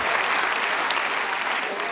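A theatre crowd at a comedy performance gives loud, continuous applause, a dense roar of clapping hands with a hint of voices underneath.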